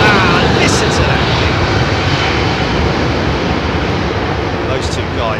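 Jet airliner with General Electric CF6 engines at London Heathrow Airport, a loud, steady broadband roar held for the whole stretch, with faint voices briefly audible over it.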